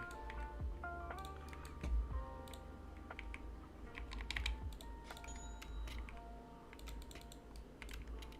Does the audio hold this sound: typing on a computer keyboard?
yes